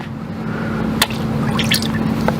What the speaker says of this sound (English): when you're panning, you want to make sure you stir it up real good